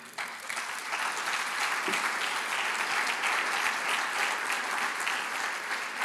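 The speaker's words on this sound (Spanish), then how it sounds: "Den un aplauso al Señor." A church congregation applauds the Lord in a steady, dense wash of clapping that fills the room for several seconds, loud and sustained with little talk.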